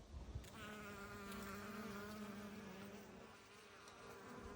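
Bees buzz close by around flowering tree peony blossoms in a soft, wavering drone, with a few brief clicks at the start.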